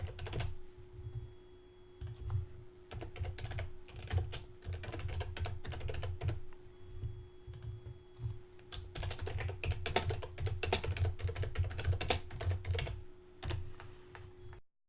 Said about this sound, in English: I'm going to type in some fake information here.